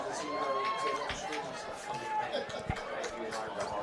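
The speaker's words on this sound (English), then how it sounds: "Nice Hopkinsville crowd here below us in the stands." A Hopkinsville high school football crowd fills the stands at a night playoff game against South Warren, a steady wash of chatter and cheering spread wide, with brief thuds and a faint whistle-like tone passing through.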